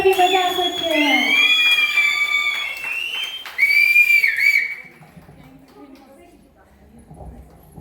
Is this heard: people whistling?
yes